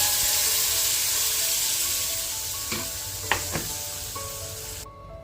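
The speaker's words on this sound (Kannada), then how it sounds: "ಈ ಥರ ಒಗ್ಗರಣೆ ಹಾಕಬೇಕು. ಸಾಸಿವೆ, ಜೀರಿಗೆ ಮತ್ತು ಕರಿಬೇವು." Mustard seeds, cumin and curry leaves sizzle in hot oil for a tempering, a steady close hiss with a few faint pops and clinks partway through.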